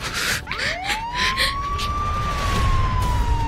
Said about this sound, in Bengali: স্যার পুলিশের গাড়ির আওয়াজ না?